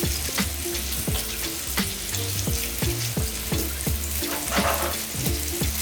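Chicken cutlets crackle and sizzle steadily in hot oil, a dense close frying hiss with scattered pops and no voices.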